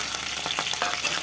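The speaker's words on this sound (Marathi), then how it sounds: "या कढईमध्ये तेल गरम झालं आहे। आपण आता याच्यामध्ये लसण टाकूया," Garlic and green chili hit hot oil in a kadhai, a dense, close crackling sizzle with brief spattering pops throughout and no voices.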